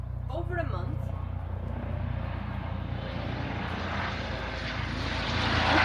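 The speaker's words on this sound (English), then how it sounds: "Just wait the helicopter to go past the army one." An army helicopter flies past outdoors, its steady low rotor and engine rumble filling the background and swelling louder toward the end while a voice speaks over it.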